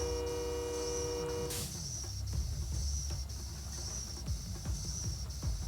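Boston Sprinter train heard from inside the cab in Train Sim World 2: a loud horn blast sounds for about a second and a half, then cuts off, leaving a low rolling rumble with rhythmic rail clicks.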